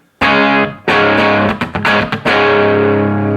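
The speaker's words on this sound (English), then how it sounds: "Everything straight up and down distortion with the Les Paul" Heavily distorted electric guitar chords from a Les Paul through a Bixonic Expandora distortion pedal ring out loud and sustained, struck several times with brief choppy stops between, no voices.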